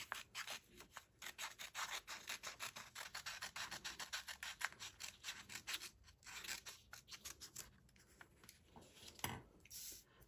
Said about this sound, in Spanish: coger las tijeras y cortaremos por esta línea que acabamos de marcar